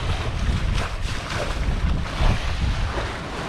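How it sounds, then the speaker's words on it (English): A sailboat under sail alone with no motor running, heard as steady rushing wind and water washing against the hull, with gusting wind noise buffeting the microphone throughout. "But now we're sailing completely. No motor."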